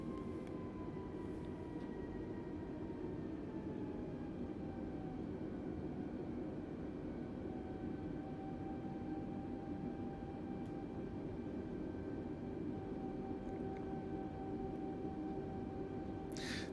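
An A320neo airliner taxiing in the Microsoft Flight Simulator 2020 game, heard as a steady, droning jet engine whine with a constant broadband rumble and no talking.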